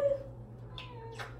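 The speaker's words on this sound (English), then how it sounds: "My cat's in here." A pet cat gives two short, faint meows indoors over a low steady hum, the second slightly louder, with no one talking.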